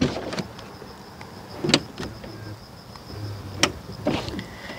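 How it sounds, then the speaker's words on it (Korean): The soft-close door of a BMW M850i Gran Coupe draws itself shut with a quiet motorized hum and a few faint clicks, heard close by in a calm space. "이렇게 소프트 클로징이 들어가 있다는 것을 확인하실 수도 있습니다"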